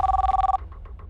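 A telephone rings in a cab service office, giving one loud, steady electronic ring that cuts off partway and trails into faint fading echoes. No voices are heard.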